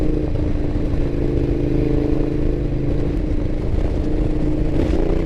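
A 2012 Ducati Diavel motorcycle rides along at low speed, its engine a steady, fairly loud drone with wind and road rumble mixed in and no pronounced revving.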